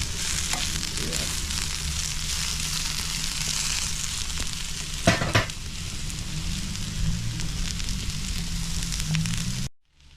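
Shrimp with jerk seasoning frying in a pan with cabbage, a close, steady crackling sizzle with a louder burst of spatter near the middle. The sizzle cuts off abruptly at the end.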